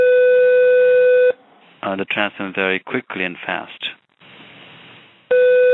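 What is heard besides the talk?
phone ringing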